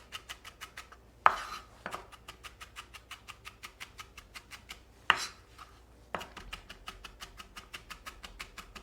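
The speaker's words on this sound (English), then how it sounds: "I'm going to run my knife through again" Knife rapidly mincing garlic on a cutting board, a fast, even run of close crisp taps with a few brief pauses and heavier knocks between passes, no voices.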